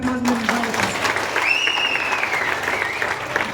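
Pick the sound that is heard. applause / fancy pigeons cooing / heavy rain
applause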